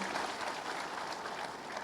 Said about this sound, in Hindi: तालियां जरा जोर से बजें